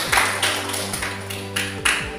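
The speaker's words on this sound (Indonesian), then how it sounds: "Tepuk tangan untuk kelompok 1." A few sharp claps ring out in an Indonesian classroom for a student group, spaced irregularly over a low, steady background hum.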